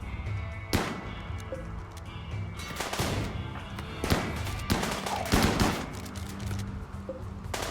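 Sustained RimWorld combat gunfire, with repeated sharp shots and bursts layered over a continuous rumble of battle noise and no voices.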